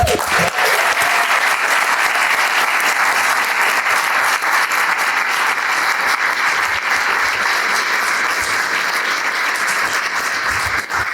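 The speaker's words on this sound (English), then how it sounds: "can we get a round of applause for Liana again?" A steady round of applause fills a city council chamber at an inauguration, dense clapping from many hands holding loud and even for several seconds, with no talk over it.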